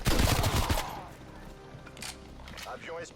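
Rapid automatic gunfire in the video game Call of Duty Cold War, a loud burst of shots at the start, then quieter in-game shots and effects, with a voice talking over them.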